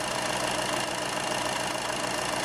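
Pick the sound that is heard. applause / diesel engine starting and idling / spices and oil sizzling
diesel engine starting and idling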